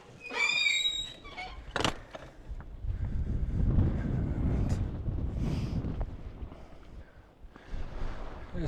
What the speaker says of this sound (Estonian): Tuul endiselt tahab mütsi ära viia.